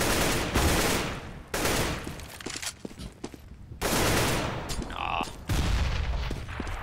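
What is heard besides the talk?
gunfire in the video game CS:GO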